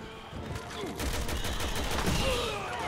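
Rapid gunfire bursts crackle in Resident Evil 6 on the Switch, dense and continuous over game ambience, with fainter tonal effects underneath.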